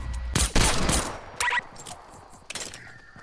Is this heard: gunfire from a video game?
yes